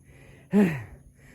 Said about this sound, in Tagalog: Grabing hingal ko.